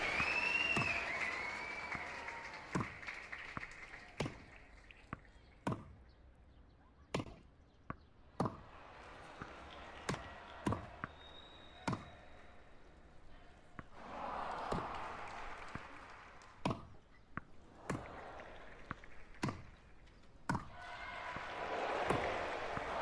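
Crowd cheering and applauding at a VR tennis esports championship match, swelling in loud bursts over sharp, repeated ball-hit clicks that land every second or so.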